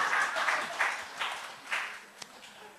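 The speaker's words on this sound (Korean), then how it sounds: "우리 격려의 박수 한번 쳐주세요." Church congregation applauding during a special prayer meeting, a light, fairly faint clapping that comes in a few soft swells and fades, with no voices over it.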